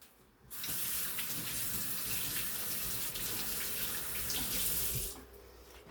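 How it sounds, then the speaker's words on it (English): A faucet runs in a steady, loud gush for several seconds as hands are washed beneath it, then shuts off. "Let me wash my hands though."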